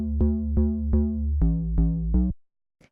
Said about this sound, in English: this is just a pretty simple kind of lo-fi bass line sound.